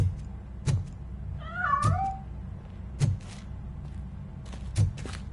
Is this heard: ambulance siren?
no